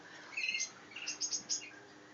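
Canaries and parrotlets in an aviary give quick, thin chirps and short tweeting bursts, several birds calling in small clusters at moderate distance over a quiet background.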